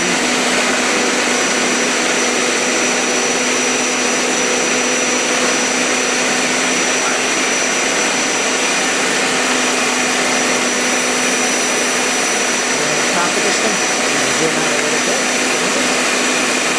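A Hoover Power Scrub Elite Pet carpet cleaner runs continuously up close, a loud, steady motor whine and suction roar with no break throughout.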